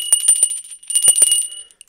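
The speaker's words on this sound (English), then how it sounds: "So I'm gonna ring the baby bell." A small hand bell is rung close and loud in a quick run of jingling strokes, pausing briefly before a second burst of ringing.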